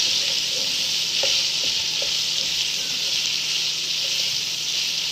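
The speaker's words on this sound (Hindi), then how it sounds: "अब हम इसको मिक्स करेंगे सब्जियों के साथ" Chopped vegetables and green chilli fry in ghee for chicken jalfrezi, giving a constant loud sizzling hiss with a few light scraping stirs of a spoon, heard close.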